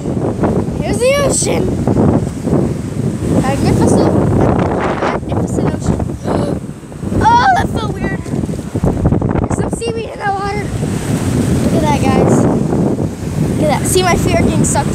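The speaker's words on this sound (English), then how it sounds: "Magnificent ocean." Wind buffets the microphone steadily on a beach while ocean surf rolls underneath, with people talking and calling out over the rushing noise.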